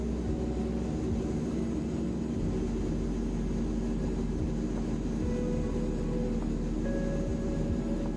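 Engines of a Transall C-160 transport aircraft in flight simulation, a steady, loud, droning turboprop rumble with constant low hum and tonal whine, unbroken throughout.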